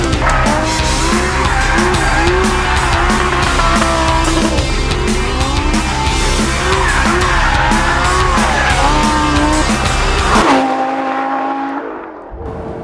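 A Lamborghini Gallardo LP550-2's tires squeal in long, wavering shrieks over a roaring engine for about ten seconds with traction control off, then the engine note drops and fades away.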